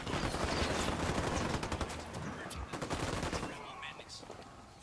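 Video game gunfire in Ghost Recon Wildlands: sustained, dense bursts of automatic fire with sharp individual shots, loud and continuous through most of the span and thinning toward the end, with faint voices underneath.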